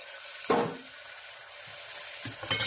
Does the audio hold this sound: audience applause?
no